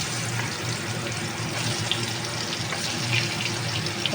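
Pointed gourd (potol) frying in hot oil in a home kitchen, giving a steady, close, moderately loud hiss and crackle that runs unbroken throughout with no talking.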